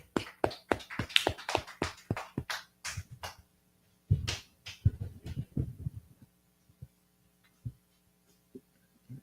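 A class claps in quick, irregular bursts that thin out into a few isolated claps, fairly faint, with no talk.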